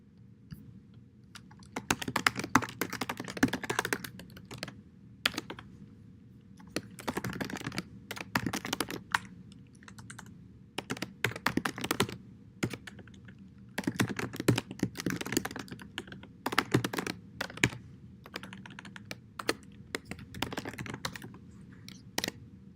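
Someone types C++ code on a computer keyboard: quick, close bursts of key clicks separated by short pauses, with nobody speaking.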